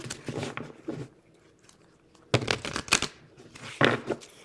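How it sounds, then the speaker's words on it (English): A deck of cards is ruffle-shuffled twice, a quick crisp riffling burst each time, close and fairly quiet, with a bridge-like flutter after. "Grab the deck of cards, giving them a good ruffle shuffle"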